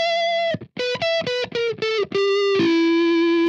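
An electric guitar played on the neck pickup through the Analog Obsession Gunner amp plugin with high sustain, distorted tone, delay and reverb. A run of short, plucked, descending notes ends in a long sustained note.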